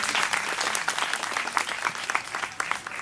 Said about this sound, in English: A round of applause once again for them.